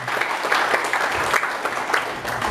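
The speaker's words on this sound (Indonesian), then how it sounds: "Tepuk tangan sekali lagi untuk kita semuanya." A seminar audience at an education forum in Semarang claps in dense, steady applause that runs evenly for a couple of seconds at close range.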